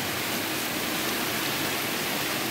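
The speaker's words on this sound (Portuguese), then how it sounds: "mais um dia abençoado de chuva." Calm rain falls in a city as an even, dense hiss that carries on without a break. No voices or other distinct sounds come through it.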